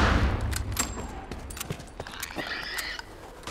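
Rapid bursts of gunfire in The Last of Us, sharp cracks scattered over a low rumble of game noise, fairly close and busy throughout.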